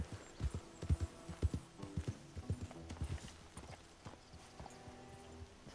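Horse hooves from Red Dead Redemption 2 clip-clopping at a walk in a steady, fairly close rhythm, slowing toward the end.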